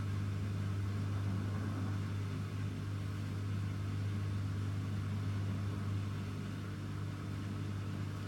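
A Bosch Serie 8 WAYH8790GB washing machine on a SuperQuick 15 cycle, with a steady low motor hum as the drum turns and builds toward a spin, continuous and fairly quiet.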